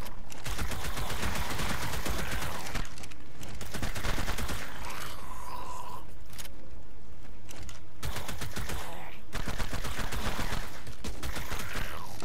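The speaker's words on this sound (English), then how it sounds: "Why am I shooting them?" Sustained gunfire in the video game ARK Survival Ascended, dense rapid bursts of loud close shots running almost continuously with a few short breaks and no talking.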